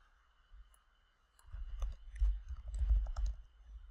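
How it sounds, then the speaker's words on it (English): Keyboard typing and mouse clicks on a computer, a quiet series of close, uneven taps and clicks that grows busier toward the end, with no talking. "Drag out a label and type a short description of what the app does."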